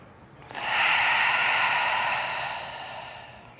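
A single slow, deep breath during a hip-stretching exercise, a soft airy rush that swells in after half a second and gradually fades, close and alone.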